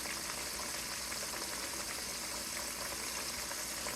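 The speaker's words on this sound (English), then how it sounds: "So that way all of the pork chops are fried evenly." Pork chops coated in Louisiana chicken fry coating frying in hot oil on a stovetop burner give a steady, dense crackling sizzle that holds evenly throughout, with no voices.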